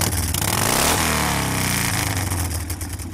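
A custom Resident Evil Chopper motorcycle, built by Capcom with Savage Cycles, roars loud and close, its engine revving and shifting pitch early on before settling into a steady, heavy rumble with no voices.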